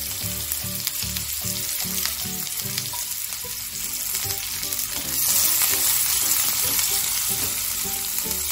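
Chopped onion sautéing in hot oil with mustard seeds and cumin in a kadhai, a loud steady sizzle with rhythmic stirring scrapes that swells louder partway through.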